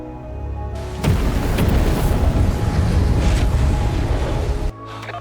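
A blast furnace explosion in a dramatized film scene, a sudden massive roaring blast that sustains as a dense rumbling wash for several seconds before cutting off abruptly, with no speech.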